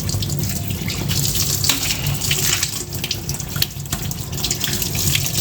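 Running tap water splashes steadily over clams in a sink as they are rinsed clean of mud, a continuous close gush with small clattering shifts throughout, no voices.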